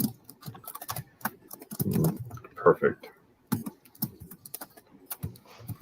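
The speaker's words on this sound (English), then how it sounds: "Sorry you guys can hear me typing." Quick, light computer keyboard typing clicks in irregular bursts, heard close up while a person talks over them.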